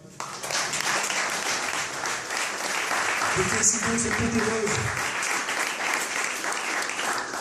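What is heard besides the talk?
congregation applause at a youth camp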